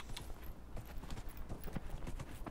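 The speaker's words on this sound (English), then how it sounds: "We actually haven't used our horse yet" Horse hooves clip-clop in a steady, quick rhythm as a mount gallops along in Dragon Age: Inquisition, the hoofbeats close and continuous over a low ambient game backdrop.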